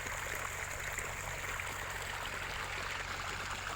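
A continuous, even rush of irrigation water flowing into a newly sown maize field, like a steady stream pouring along a channel, with no voices.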